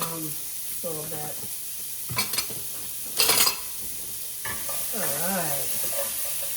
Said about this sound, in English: We're gonna saute these onions a little bit.